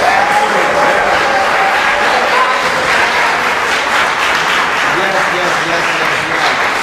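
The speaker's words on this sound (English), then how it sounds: "Let's give another round of applause for our wonderful pastors." Steady, dense audience applause fills a stage event honoring pastors, loud and continuous throughout, with voices calling out and cheering faintly beneath the clapping.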